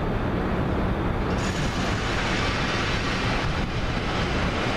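A long freight train pulled by only two locomotives rolls past at night, a loud continuous rumble and rattle of cars that fills the whole stretch without pause.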